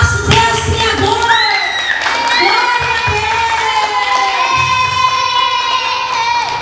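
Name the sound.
children clapping and cheering at church play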